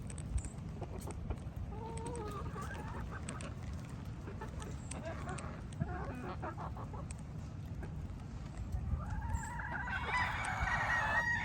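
Chickens cluck close by, with a rooster crowing loudly near the end, over a steady outdoor background.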